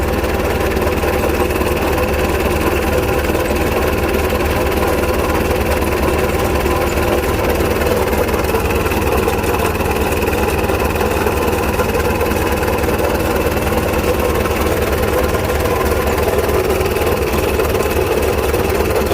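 A 1993 Isuzu NKR110 six-wheel truck with its original factory engine idles steadily and close, a continuous even rumble with faint rhythmic knock and vibration throughout, no voices over it.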